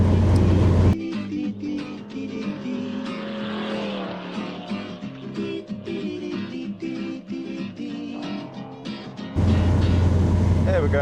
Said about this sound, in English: Here we're going along 50, 55 miles an hour.